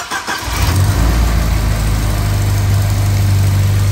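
A Volvo 1800E with its fuel-injected B20 engine cranks briefly and catches, then settles into a loud, steady, close-up idle with a deep even rumble.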